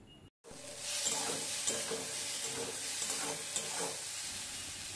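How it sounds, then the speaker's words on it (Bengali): Ground cumin, turmeric and Kashmiri chili masala fry in a pan with a soft, steady sizzle. Gentle rhythmic stirring strokes scrape through it at close range after a brief silent moment at the start. "মশলাটা কষিয়ে নেব।"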